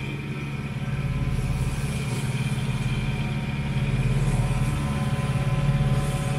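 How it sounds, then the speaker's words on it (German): The auxiliary engine of the sailboat Mola Mola runs at a steady idle-like drone, a continuous low mechanical hum with faint clatter, constant and close. "Wir haben die Maschine an, um überhaupt voranzukommen."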